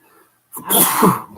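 A single sharp sneeze bursts out close to the mic after a brief quiet pause, loud and explosive, then trails off quickly.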